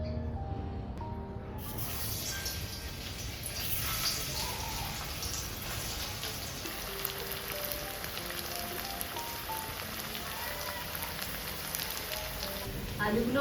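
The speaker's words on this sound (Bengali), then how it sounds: "বিরেস্ত ভাজার তেলেতে আলুগুলোকে ভেজে নেবো" Potatoes fry in oil left over from frying onions for chicken biryani, a constant crackling sizzle with background music over it and a brief quieter moment at the start.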